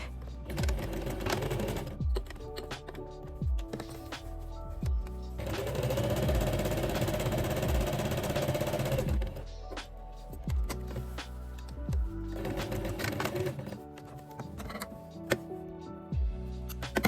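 A sewing machine stitches a line along a dress pocket opening in several bursts of fast, steady needle chatter, broken by brief pauses and clicks. It sounds close and is heard without talk.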